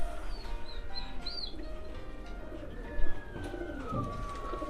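Racing pigeons on a low-fly training flight, with soft cooing and bird calls over steady outdoor background noise and a brief flutter or thump near the middle.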